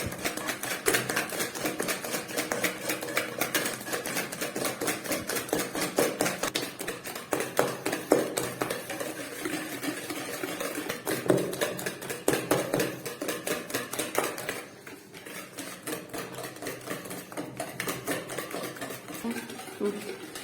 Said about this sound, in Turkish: Bunu iyice çırpıyorum arkadaşlar.